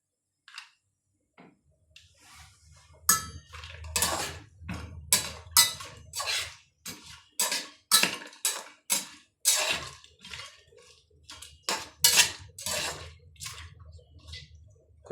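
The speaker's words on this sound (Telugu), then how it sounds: "ఇందులోనే ఇప్పుడు కొద్దిగా జీడిపప్పు వేస్తున్నానండి." Cashews sizzle and crackle as they fry in a pot for a one-pot chicken biryani, a steady run of close, moderately loud bursts that comes alone, with no talking.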